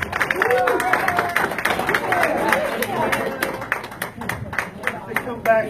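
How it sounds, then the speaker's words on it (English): A crowd at a Beach Cities Republicans evening meeting claps and chatters, scattered sharp hand claps over a babble of voices with people talking nearby. "Give yourselves a round of applause."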